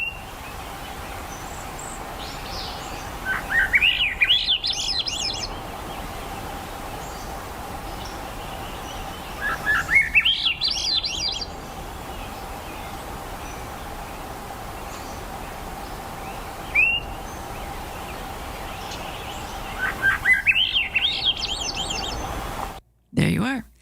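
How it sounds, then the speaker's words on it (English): Swainson's thrush songs recorded in Metchosin, three rising spiralling phrases repeating every six seconds or so with a short call between them, clear over a steady hum and faint background rustle. "Swainson's thrush. Is what they're called. Could you play the sound again?"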